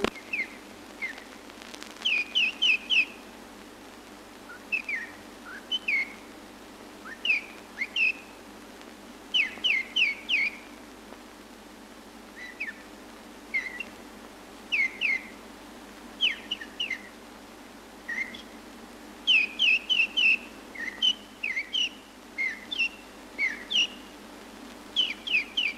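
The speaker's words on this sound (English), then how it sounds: "In the nesting season, the male bird sings both by night and day, usually in dense parts of the wood" A male nightingale sings in a dense wood, with repeated short bursts of clear whistles, trills and chirps in phrases broken by brief pauses, moderately near over a low steady hum.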